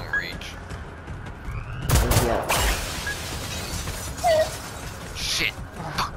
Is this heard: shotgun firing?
yes